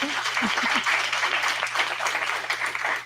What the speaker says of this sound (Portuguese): eu queria mais uma vez pedir uma salva de palmas para o nosso palestrante